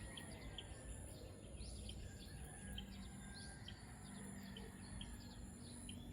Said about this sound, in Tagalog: Meron isang ibon dyan makanta guys